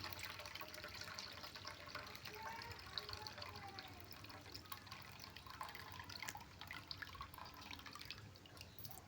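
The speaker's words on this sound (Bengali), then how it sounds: "এবার আমি সেগুলোকে ভালো করে ধুয়ে নিচ্ছি" Running tap water rinses soaked dried cauliflower in a sink, a steady wash of flowing and dripping water continuing unbroken throughout, fairly quiet and close, with no one talking.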